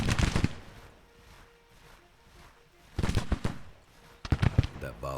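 A Civil War musket volley in the Grand Tactician strategy game: a loud burst of crackling shots at the start, a quieter stretch, then two more ragged rolling volleys of gunfire, with no talk.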